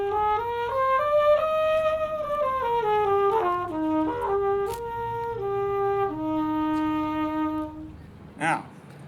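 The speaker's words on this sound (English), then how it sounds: "We're talking about a flugelhorn." Conical-bore flugelhorn played solo in a brass ensemble concert setting, a mellow, sustained melodic line of held and stepping notes, steady and fairly close, with a brief noise burst near the end.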